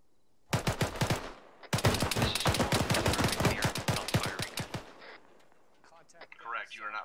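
Sustained automatic gunfire in Arma, infantry engaged in rapid bursts with a short pause, loud and close, then fading into quieter background noise and faint voice.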